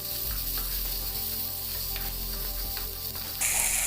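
Mutton and spices fry and are stirred in a pan over medium gas, a continuous close sizzle with scraping strokes of the spoon, and a brighter hiss swells near the end.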